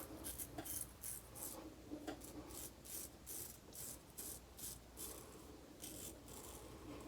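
Close, steady scraping and rasping of a razor over stubble, short repeated strokes with crisp high-pitched bristle crackle.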